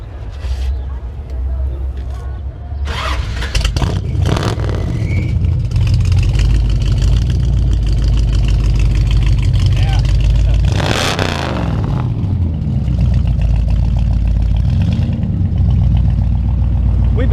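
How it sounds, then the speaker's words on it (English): Classic car with a custom-built exhaust idling at a Gulfport block party, a loud, steady, deep rumble that swells briefly as the engine revs, heard up close with people talking over it. "I'll go to the back and we'll get an exhaust sound video."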